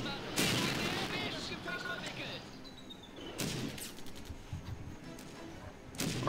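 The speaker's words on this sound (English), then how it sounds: "Only takes a few volleys from these tanks to completely eliminate anything in this area." Tank cannon volleys in the WWII strategy game Blitzkrieg 2, several sharp, loud booming shots at irregular intervals, each with a rolling tail, over a continuous bed of battle noise.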